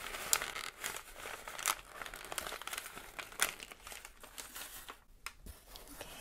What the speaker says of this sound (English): There's the little tissue paper.